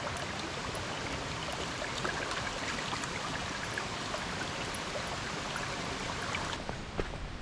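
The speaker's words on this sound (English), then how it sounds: "You follow the creek the whole way." Creek water flows steadily at Mud Creek Falls in Sky Valley, Georgia, a constant close rushing and burbling with no voices.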